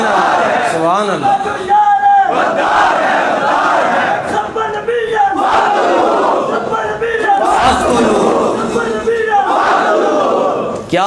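A large crowd at a religious gathering shouts a slogan in loud, repeated unison bursts, filling the space with massed voices in rhythmic waves.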